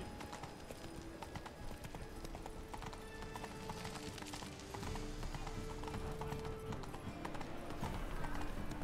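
Geralt's horse Roach in The Witcher 3 trots with a steady, rhythmic clip-clop of hooves that carries on throughout, with a faint voice now and then under the hoofbeats.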